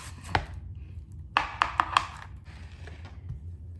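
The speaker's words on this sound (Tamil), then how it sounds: "நான் எப்படி வெட்டுறேன்ற காட்டுறோம்" A knife chops through banana flower for a Sri Lankan-style dish, a single sharp cut followed by a quick burst of three or four crisp chops, close and fairly quiet, with a few softer taps after.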